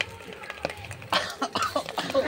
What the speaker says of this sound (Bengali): ওইদিকে সবাই কাশছে